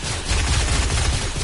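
Dense, continuous gunfire in Fortnite forms a steady, noisy roar of overlapping shots for a second and a half, with no clear gaps between them.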